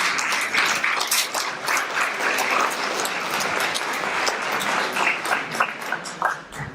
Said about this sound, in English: Please give our drivers a round of applause.